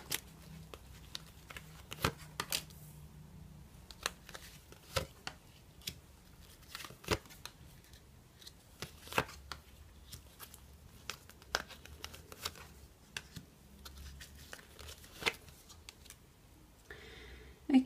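Tarot cards are shuffled by hand in soft, repeated riffles and flicks, quiet and close, with a steady rhythm of light papery taps and slides throughout.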